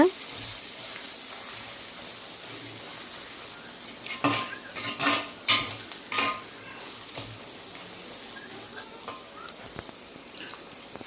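Pepper chicken masala sautés in a pan with a constant low sizzle, while a burst of stirring scrapes and utensil clatter rises in the middle before settling back to gentle frying.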